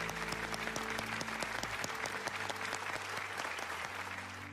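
A studio audience gives loud, sustained applause in honour of state security officers, dense clapping running throughout while music with a steady low pulse plays underneath.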